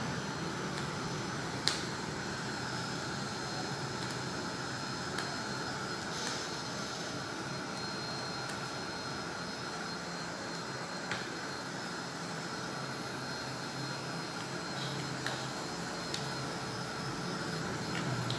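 A steady, continuous rush of blowing air from a craft heat tool running, droning on without pause at a fairly even level.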